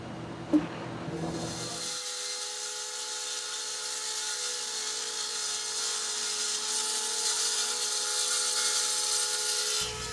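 Power tool cutting a wooden table down to final size, a sustained high whining hum that starts after a brief clack and runs steadily, moderately loud and close.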